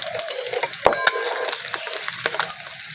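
Amudi fish sizzling in a frying pan, a steady crackling fry with sharp pops and scrapes of a utensil against the pan, close and alone.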